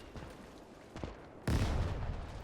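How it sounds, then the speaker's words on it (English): A German mortar round lands with a sudden heavy boom in the Gates of Hell battle, following scattered distant gunfire from a late-war trench assault, the impact loud and close. "Nice hit from the German mortar."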